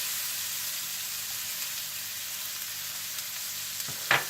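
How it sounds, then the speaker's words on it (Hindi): Onions sizzling in hot butter in a pan for a beef burger sauce, a steady, close frying hiss that continues throughout, with a brief louder stir or scrape near the end. "जैसे ही मक्खन गर्म हो जाए तो आप इसमें प्याज डाल दें"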